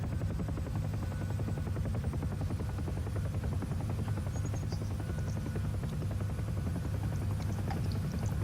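A UH-1 Huey helicopter in the DCS flight game gives a steady, loud rotor thump layered over a constant turbine whine, unbroken for the whole stretch and with no voices.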